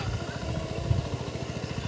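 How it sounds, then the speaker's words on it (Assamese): A tractor engine puddling a paddy field chugs steadily up close, a low rhythmic throb with mechanical clatter running throughout. "ট্ৰেক্টৰে বৰ্তমান পেক দি আছে।"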